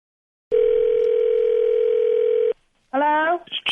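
A steady telephone dial tone hums for about two seconds, then cuts off; a moment later a ringing tone starts up, all heard close and clear over a phone line at the start of a prank call.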